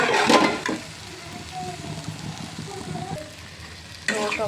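Chopped tomato being stirred into dried fish (shutki) frying in a pan, a loud wet sizzle with scraping stir strokes that settles into a softer crackle before flaring up again.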